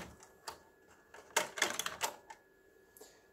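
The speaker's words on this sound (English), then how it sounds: "You can then push the printhead over, you'll hear a click, and then it will lift out." The print head of an Afinia L801 label printer is pushed over and snaps into place, giving a few faint plastic clicks and small taps up close in a quiet room.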